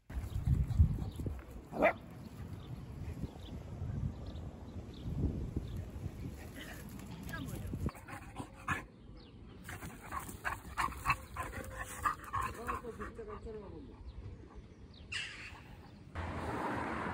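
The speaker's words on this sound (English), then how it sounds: "Yeah, it's my dog." A pet dog indoors in the Netherlands yips and whines in scattered bursts, close and moderately loud, with quiet gaps and occasional room noises between calls.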